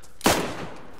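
A single loud sniper shot in the video game DayZ cracks out sharply and then decays into a long rolling echo, with no talk in the moment.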